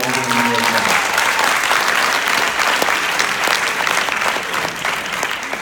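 Sustained audience applause from a seated crowd at a stage hypnosis show, dense and steady throughout, with a voice or two faintly under the clapping near the start.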